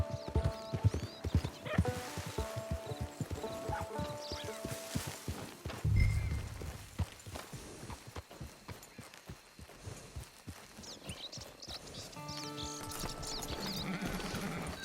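Hooves clop in an uneven walking rhythm close by, with a horse's snort and quieter stretches between steps.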